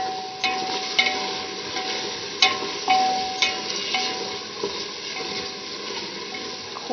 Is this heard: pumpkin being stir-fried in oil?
yes